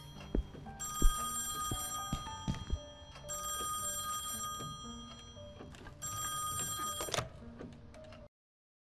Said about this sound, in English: I suppose I'd better get the phone, hadn't I?